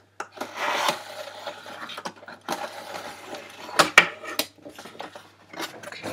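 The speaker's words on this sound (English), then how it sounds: "I'm going to unbox this new baby. So let's see. I'm gonna take my knife." A knife slices through the tape and cardboard of a new 15-inch MacBook Pro 2013 box, giving close scratchy cuts and rustles in short bursts with a few sharp clicks.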